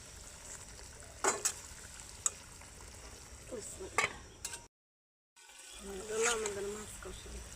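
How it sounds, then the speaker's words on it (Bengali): Fish sautés with ridge gourd and potatoes in a pan, a soft sizzle with occasional stirring scrapes and knocks, fairly quiet and close, briefly cutting to silence before the frying resumes. "আমাদের মাছ কষানো।"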